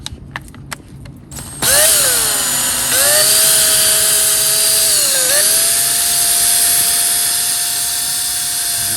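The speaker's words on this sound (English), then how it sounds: "Kind of sand away." A power sander works wet sanding on scratched Mini Cooper paint, starting with a few clicks before spinning up into a loud, steady whine whose pitch dips and recovers as pressure changes.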